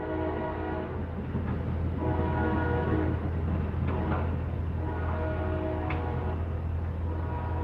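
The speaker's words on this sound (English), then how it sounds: "there goes the train" A train rumbles past at a distance with a steady low drone and faint rail clatter, a brief horn-like tone rising near the end.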